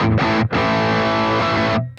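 Loud, evenly sustained electric guitar chords through a Boss GX-100 with compressor on, smooth, compressed, slightly gritty tone, one short break before ringing out.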